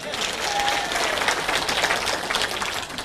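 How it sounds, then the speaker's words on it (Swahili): A crowd at a Kenyan political rally breaks into sustained applause: dense, continuous clapping from many hands, fairly loud and even throughout, with no voice on top. "Jipigieni makofi."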